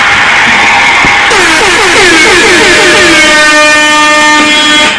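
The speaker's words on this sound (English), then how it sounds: "that air horn it's a very loud air horn" A very loud air horn blares continuously for several seconds, harsh and close, with a wavering pitch as it starts before holding steady.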